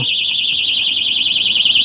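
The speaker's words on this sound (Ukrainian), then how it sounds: "Сигналізація спрацьовує." A loud, steady electronic alarm siren from a Weison DX 26 motorcycle alarm lock wails continuously with a fast warbling pitch, sounding close and alone with no talking.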